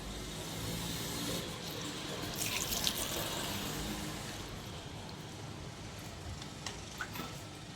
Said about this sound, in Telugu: వీటికైతే వాటర్ పోద్దాము.